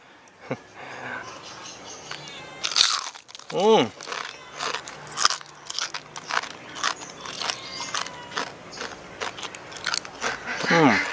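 Crisp crunchy bites into a mock chicken thigh, several sharp crackling crunches spaced apart with chewing between them, close up, with people talking around the eating.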